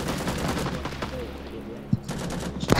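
Gunfire in the Vietnam War video game Rising Storm 2: Vietnam, a faint busy battle background with sharp individual shots standing out near the end, under someone talking.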